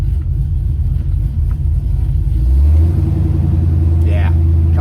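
A truck fitted with a newly installed FTI stall converter pulls away from idle, its engine rumble deepening and swelling as it starts moving, loud and close with a brief voice near the end.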